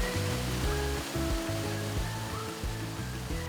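Steady broadband roar of a waterfall in Jangsan, Busan, loud and continuous, with faint rhythmic low tones running beneath it.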